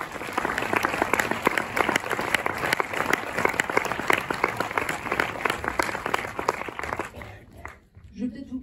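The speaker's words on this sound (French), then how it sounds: "vous pouvez les applaudir" A cinema audience at a film premiere at the Méliès in Montreuil claps in sustained, dense applause that fades out near the end, leaving a brief voice.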